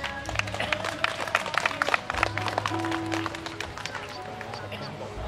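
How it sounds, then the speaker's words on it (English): Wedding guests at the ceremony break into brief, scattered applause, clapping over a low murmur while a voice speaks. "Let us give them a round of applause."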